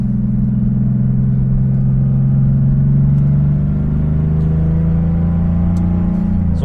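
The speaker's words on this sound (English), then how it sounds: "let you guys enjoy the sound of that flat six" An air-cooled Porsche 911 flat-six holds a deep, steady engine drone with a rich low exhaust note, then eases slightly in pitch, close and loud with no talking.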